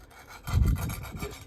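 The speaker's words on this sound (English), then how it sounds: "So I just get in my mortar, the dry mix," Dry mortar mix scraped and rubbed into the joints of paving, a gritty rasping swell that starts low and thickens into a steady coarse scrape, close up with no voices.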